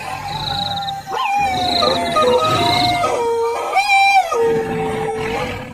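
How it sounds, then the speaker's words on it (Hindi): Wolves howling in long wavering cries with dogs whimpering and wailing among them, a loud, eerie chorus of overlapping howls that rise and fall throughout, forming a spooky wild-animal sound effect. "पीछे से भेड़ियों के रोने की और कुत्तों के रोने की आवाजें भी आने लगती हैं।"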